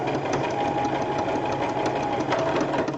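A sewing machine fitted with a size 15 needle stitches rope for an embroidered rope bowl, a loud, close, rapid mechanical chatter that runs without a break for three seconds.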